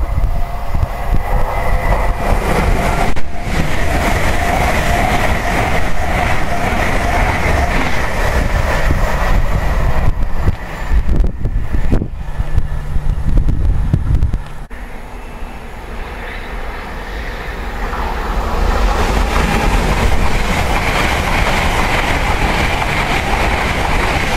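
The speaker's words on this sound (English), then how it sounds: "here's a train coming." A train roars loudly through Chester le Street railway station, a continuous heavy rumble and rail noise that dips briefly midway and then swells again as carriages keep passing.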